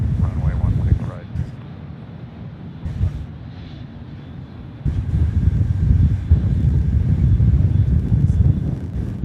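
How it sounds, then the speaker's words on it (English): A Singapore Airlines Boeing 777 freighter lands at night on runway 16 right at Sydney Airport, a steady low engine roar that swells partway through, accompanied by wind noise on the microphone. "777 freighter in from Singapore. Runway 16 right."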